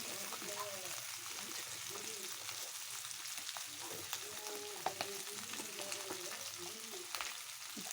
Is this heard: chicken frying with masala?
yes